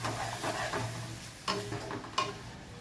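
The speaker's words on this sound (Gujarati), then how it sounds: "એક વખત ડુંગળીને આ રીતે હલાવી લઈશું અને હવે આપણે પેસ્ટ ઉમેરી લઈએ" Onions being stirred with tomato paste in a pan while making a dhaba-style green onion and ganthiya curry: soft scraping strokes over a low sizzle, with a couple of sharper spoon taps near the end.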